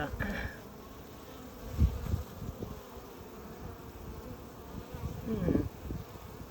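Honeybees buzz at the hive entrance, a close, fairly faint drone with individual bees swelling past in louder bursts over a soft background hum.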